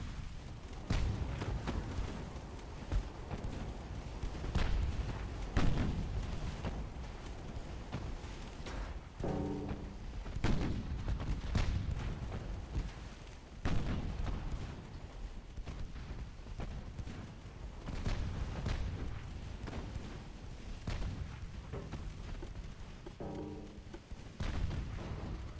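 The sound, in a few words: naval artillery firing HE shells in Ultimate Admiral Dreadnoughts video game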